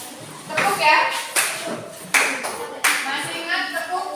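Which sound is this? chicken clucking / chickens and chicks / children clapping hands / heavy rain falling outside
children clapping hands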